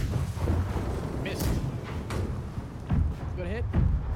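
Ship cannons firing in the naval video game Blackwake, with several heavy booming thuds amid game noise while players talk and shout over them.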